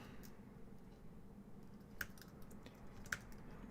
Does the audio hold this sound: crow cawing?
no